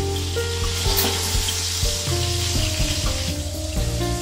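Steaks sizzle in a hot pan with a dense, steady crackling hiss, loud and close, with faint background tones underneath and no talking.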